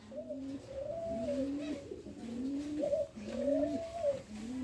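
Caged pigeons coo in a repeated rhythmic pattern of low, warbling calls, close and steady, with several overlapping phrases over a faint background hiss.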